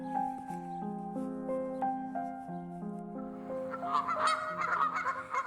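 Canada goose honking in a repeated series of nasal calls, fairly close and clear, with another bird's calls joining and growing busier toward the end; no talking.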